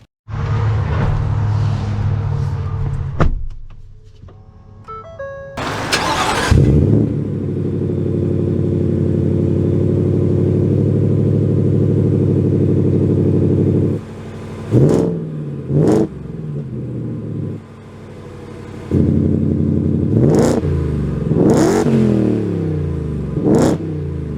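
A 2023 Ford Raptor R truck engine starts and idles with a steady low rumble, then gets several sharp, loud revs in the second half, each rising and falling quickly, with no talk.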